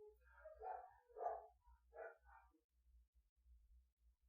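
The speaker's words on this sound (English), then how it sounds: "the kids are home, so the dogs are barking" Several household dogs bark in the background, a run of quick, fairly faint barks with short yips and pauses, heard from a distance.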